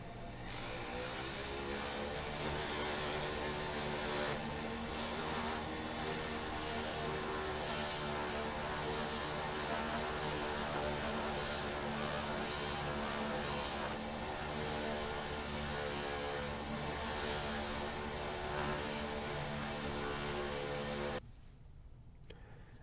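Motor-driven buffing wheel loaded with ZAM polish working on wire-wrapped jewelry, a loud steady whirring drone with strong harmonic hum that runs continuously and then cuts off abruptly near the end.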